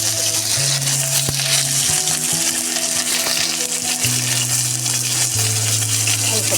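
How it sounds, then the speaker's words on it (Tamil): Mustard seeds popping and spluttering in hot oil in a pan while mango pickle is prepared: a loud, constant crackling sizzle with scattered pops and a low steady hum underneath, no voices. "கடுகு பொரிஞ்சு வரட்டும்."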